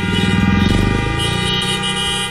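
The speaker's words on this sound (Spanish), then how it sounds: "Los ciudadanos tocaron las bocinas de sus vehículos en expresión de protesta" Car horns honking from vehicles in a nationwide street protest, a loud, close, continuous blare with overlapping horn tones sounding together throughout.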